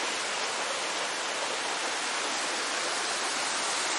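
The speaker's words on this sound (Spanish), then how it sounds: "Ven, ahí está la cascada" The Lágrima del Indio waterfall in Córdoba gives a continuous broad roar of falling water, steady and loud throughout, with no voices.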